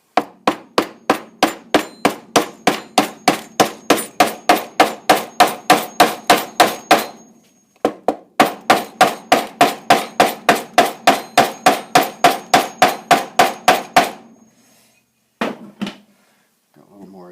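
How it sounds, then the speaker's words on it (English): Rapid, evenly spaced hammer taps on a wooden block, seating a stop bar tailpiece on a Gibson ES-345 guitar, in two long runs separated by a short pause, then a few isolated knocks at the end. "I'm going to use a block of wood and an old school hammer."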